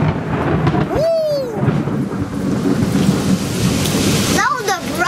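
A loud, close crack of thunder rumbles through steady rain, with a sharp burst near the start and another toward the end.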